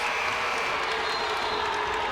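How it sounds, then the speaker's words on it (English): Crowd at a DCA boys high school basketball championship game reacting to a referee's call, a steady broadband roar of voices and scattered clapping sustained throughout, loud and close. "DCA crowd didn't like that call."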